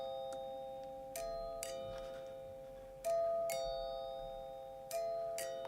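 Solo chime part from an electronic club music track, with bright bell-like strikes ringing over sustained tones, several separate hits spread across the passage at a moderate, fairly quiet level.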